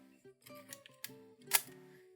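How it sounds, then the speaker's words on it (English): A Canon 7 rangefinder camera releases its shutter with a quick sequence of small mechanical clicks and whirs, ending in one sharper snap, close and fairly quiet in a still room. "This has a distinctive sound. when it releases the shutter."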